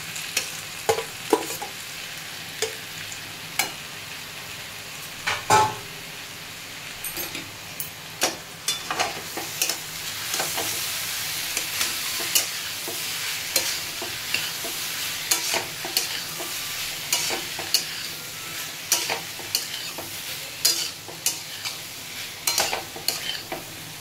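Pre-boiled potatoes fry in a pan with a continuous sizzle, while a spoon stirs them in frequent sharp scrapes and clanks that grow busier toward the end.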